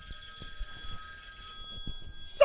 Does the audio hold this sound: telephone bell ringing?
yes